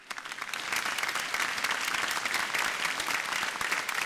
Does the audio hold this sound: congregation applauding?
yes